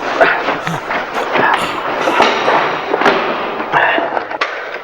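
Several sharp shots crack out in quick succession amid a noisy, busy background, loud and close.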